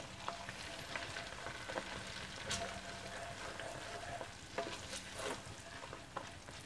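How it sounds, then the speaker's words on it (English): Ingredients fry gently in a pan with cardamom powder while panjeeri is being made. It is a quiet, low sizzle with soft, irregular stirring scrapes heard up close. "Fry them for a bit of time."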